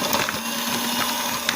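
An electric mixer whirs steadily as it beats butter and powdered sugar together, a constant motor hum with a faint steady tone, close and moderately loud with no talking.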